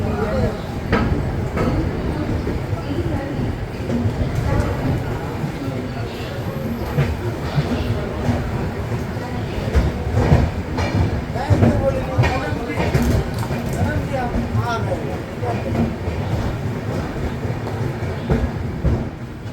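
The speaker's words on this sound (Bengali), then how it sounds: "এই হচ্ছে এনজেপি ছাড়ার পর ট্রেনের কারেন্ট কন্ডিশন" A sleeper-class Darjeeling Mail train runs steadily after pulling out of New Jalpaiguri station, with a continuous loud rumble and rattle of the carriage and faint clickety-clack throughout.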